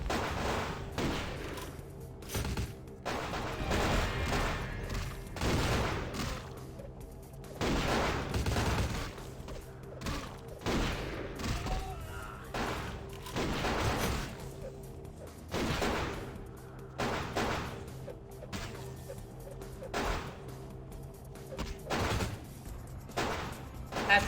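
Scattered gunfire in Vampire the Masquerade: Bloodlines cracks out as repeated sharp shots and volleys over a low game ambience, spread irregularly and fairly quiet, with no talk.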